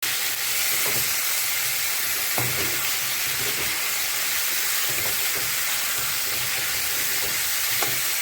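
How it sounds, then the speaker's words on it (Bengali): Mixed vegetables with turmeric and salt frying in a pan, a continuous loud sizzle and hiss with occasional soft clinks and stirring scrapes throughout. "এখন এটা ভালো করে ভেজে নেব"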